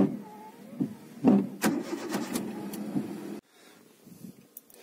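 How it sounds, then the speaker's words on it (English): A manual car engine is started with a short cranking whir that settles into a low idle rumble before cutting off abruptly, heard close up. "then we start our car."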